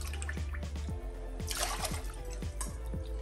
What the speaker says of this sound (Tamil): இப்போது நான் 1 டம்ளருக்கு மாவுக்கு 4 டம்ளர் தண்ணி ஊற்ற போகிறேன்